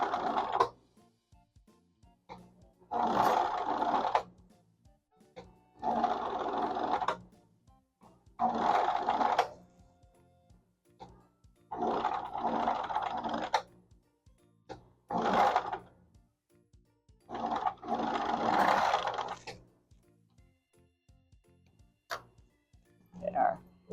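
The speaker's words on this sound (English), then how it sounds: "now I am going to go around using the serger" A serger sewing machine runs along the edge of a vintage quilt in repeated bursts of about two seconds each, its whirring hum separated by short quiet pauses.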